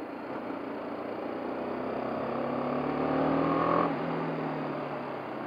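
A BMW G 310 GS motorcycle engine revs under throttle on a test-ride course, a steady loud drone that swells in pitch and volume toward the middle, then eases back, with no talk.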